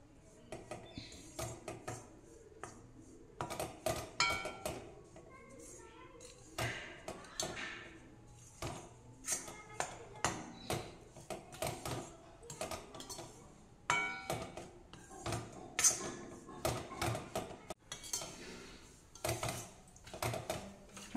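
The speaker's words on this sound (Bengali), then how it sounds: "আটাটা হালকা ভেজে নিতে হবে" Flour being dry-roasted in a pan and stirred without oil: a spoon taps, scrapes and clatters against the metal in quick irregular bursts, close up, with no voices throughout.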